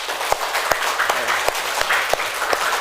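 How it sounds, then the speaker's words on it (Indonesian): Applause breaks out for a presenting student group in a class session, steady close clapping with a few sharp individual claps standing out, no talking over it. "Aplaus untuk kelompok 3."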